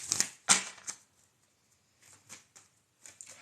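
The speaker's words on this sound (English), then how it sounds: "We're going to keep shuffling." Tarot cards are shuffled by hand in a close, quiet room, with several crisp riffling bursts and soft snaps separated by short pauses.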